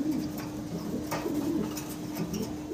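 A pair of black exhibition pigeons coo softly in a low, continuous murmur, close by, with faint bird chatter and background noise around them and no talking.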